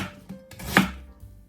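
A knife slicing a 30-gram onion into half moons on a board, a few quick close cuts with one sharper chop standing out, brief and with no voices.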